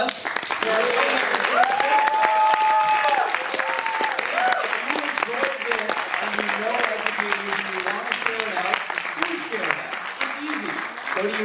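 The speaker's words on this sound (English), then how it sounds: "Everyone, please, big round of applause." Audience applause at an educational Q&A event, a sustained dense clapping that holds steady for over ten seconds, with voices and cheering mixed in beneath it.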